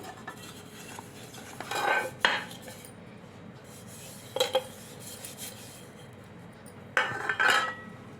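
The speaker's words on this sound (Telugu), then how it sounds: "ఇలా కేక్ బౌల్కి ఆయిల్ అప్లై చేసుకుందాం." Oil brushed around the inside of a cake bowl for an eggless stovetop biscuit cake, heard as short scraping and rubbing bursts in three separate clusters, fairly close and quiet, with no voices.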